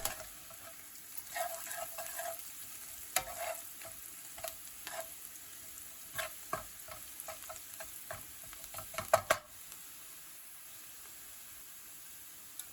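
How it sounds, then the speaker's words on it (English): Salt, turmeric and cumin powder frying in a pan for lemon pilau rice, a soft steady sizzle with many quick taps and scrapes of stirring, faint and close, fading to quiet frying near the end. "Stir through and cook for 30 seconds to fry the spices and release the flavours."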